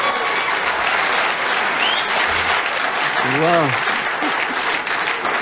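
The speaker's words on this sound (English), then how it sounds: "Deserved round of applause" A studio audience at a radio panel game show applauds in a steady, dense round throughout, with a brief vocal exclamation rising over the clapping.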